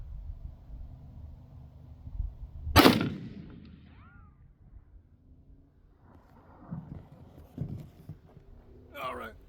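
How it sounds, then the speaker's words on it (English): A single 9mm pistol shot fired at a distant target around 486 yards, a sharp loud crack with a short tail, standing out from outdoor background noise and some faint movement afterward. "I'll just take 1 shot, and then I'll drive down there and see if I hit it"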